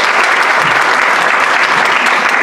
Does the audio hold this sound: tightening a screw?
no